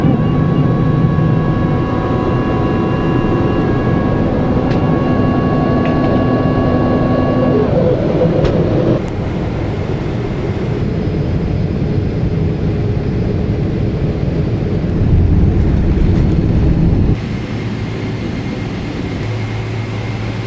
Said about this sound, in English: We're on a big bird today. It's a Boeing 777.